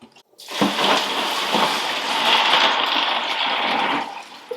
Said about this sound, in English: I'm going to put a bag of ice in here, as well as my brine.